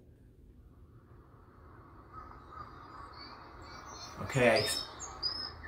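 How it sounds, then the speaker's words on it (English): Birds calling outdoors around a neighborhood apartment complex in Oklahoma City, faint chirps over a low hum of background noise, with one brief, louder call near the end and a voice speaking a single word. "I hear birds. Do you hear birds?"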